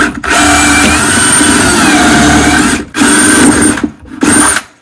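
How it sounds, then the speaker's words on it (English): A power drill drills a hole through a cabinet, whining steadily for nearly three seconds, stopping briefly, then running in two shorter bursts with pauses between them, loud and close. "So now I'm gonna drill a hole."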